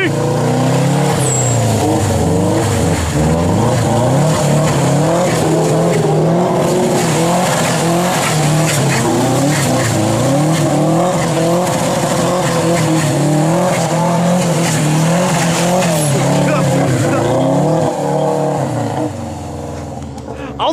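Subaru and BMW E36 cars sliding and revving on snow, a loud continuous engine drone with rising and falling revs and tire noise close by, steady throughout, with people talking over it at moments.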